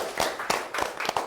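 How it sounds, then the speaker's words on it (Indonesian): A classroom group claps hands in a few loose, scattered bursts, about four or five sharp claps spread over a second, moderately close and with no talking. "Oke, dah tepuk tangan dulu."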